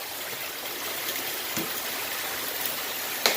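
Water from an aquarium tank being poured out behind a deck, a continuous gushing trickle at moderate level with a couple of faint clinks near the end.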